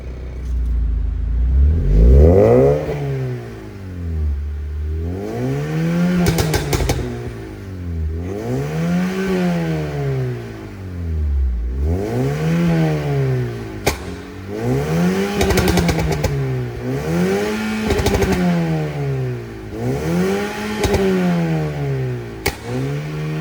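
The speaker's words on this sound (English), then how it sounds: "I know what you all are most excited for, that is the exhaust note" A modified Honda Civic with Stage 2 mechanical upgrades and an aftermarket exhaust revs repeatedly, with loud, rising and falling engine sweeps roughly every two seconds and occasional crackles, and no talking.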